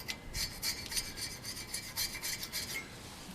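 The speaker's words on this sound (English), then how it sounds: "now I'm gonna go ahead and clean these, clean up wherever the brake pads make contact." Brake pad contact surfaces on a Volkswagen Jetta rear caliper are scraped clean by hand, a quick series of short rasping strokes in an irregular rhythm, close and fairly quiet with no talking.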